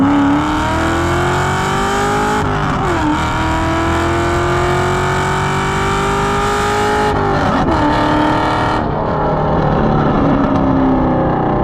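A 2015 Chevy SS V8 engine drones loudly and continuously from inside the car, with its pitch rising and falling through gear changes and steady cruising, and no talk over it.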